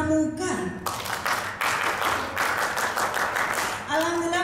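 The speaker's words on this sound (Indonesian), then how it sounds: "Sekali tepuk pramuka." An audience at a 2022 public-service workshop in Sidoarjo performs a rhythmic scout clap, a sharp burst of patterned group clapping that starts after a spoken cue and trails into talk.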